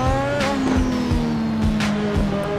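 A Lotus 98T racing car in Assetto Corsa howls at high revs with tyre squeal and gear-shift dips, a steady and close engine note.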